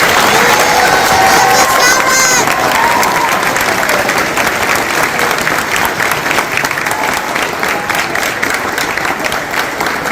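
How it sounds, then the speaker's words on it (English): Standing families applaud honor society inductees at a school ceremony, a dense, loud wash of clapping from a large crowd that carries steadily throughout, with faint voices mixed in. "Now I ask that the families please rise and give one last applause for the great inductees that we have here before us."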